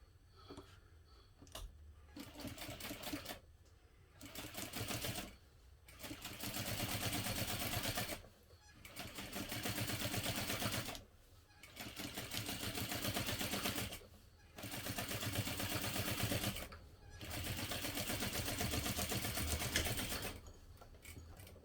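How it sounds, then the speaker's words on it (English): A sewing machine topstitches along a backpack zipper at a 1/8 inch seam allowance, running in about six steady multi-second bursts separated by short pauses, close and clear with no talk. "now we will top stitch along the zipper using a 1/8 inch seam allowance"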